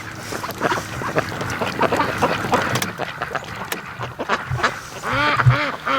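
Ducks quack repeatedly close by on a lake beside a boat, more birds arriving from a dock area, their calls coming in overlapping bursts with honk-like notes against light background noise.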